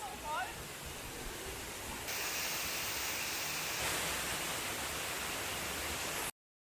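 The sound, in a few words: Tungtung Falls waterfall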